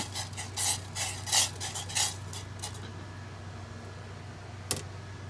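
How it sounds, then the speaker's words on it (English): A spoon scrapes and clinks against a pot of rice in several quick rhythmic strokes, then stops, leaving a low steady hum and one sharp clink. "So I'll put my rice in. We're going to stir it up."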